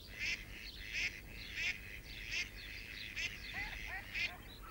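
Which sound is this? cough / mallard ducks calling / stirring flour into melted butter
mallard ducks calling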